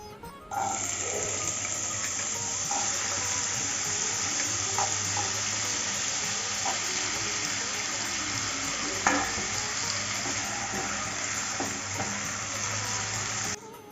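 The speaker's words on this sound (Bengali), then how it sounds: "কিছু আলু কুচি করে রেখেছিলাম সেটা এখন ভেজে নেব" Chopped potatoes fry in hot oil with a bay leaf and whole garam masala for a flattened-rice pulao, giving a steady close sizzle with occasional stirring clicks and scrapes.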